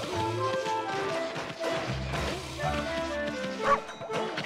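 A dog barks and yips in the Okami video game over layered game music, several short calls spread through the passage.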